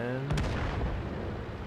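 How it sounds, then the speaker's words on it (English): An artillery shell strikes a tank in a tank battle video game, a sharp blast followed by a rumbling, crackling decay, heard over ongoing game sounds. "artillery gets him"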